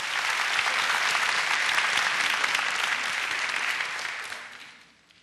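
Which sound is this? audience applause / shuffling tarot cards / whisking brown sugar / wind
audience applause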